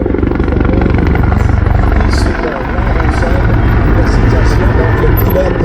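An aerobatic airplane flies at the Barrie air show, its engine droning loud and steady throughout, with a brief dip partway before the roar swells back.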